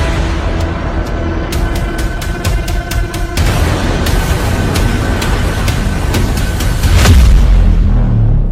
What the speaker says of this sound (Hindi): इजराइल में ईरान की जुल्फिकार मिसाइलों के धमाके ट्रंप के सभी दावों की धज्जियां उड़ा रहे हैं।